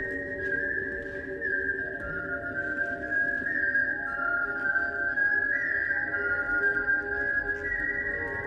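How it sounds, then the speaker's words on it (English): The Kill Bill whistle in a TV soundtrack: a lone whistled melody drifts over a soft sustained musical backdrop, the tune wavering and sliding between notes at moderate volume. "The Kill Bill whistle is playing in the background"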